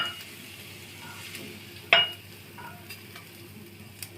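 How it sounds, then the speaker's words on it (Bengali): Eggs scramble and crumble in a frying pan under a spatula, giving a soft, steady sizzle with light stirring scrapes and one sharp clink of the spatula on the pan midway. "এখন এভাবে নেড়ে ডিমটা একদম ঝুরো ঝুরো করে দিব"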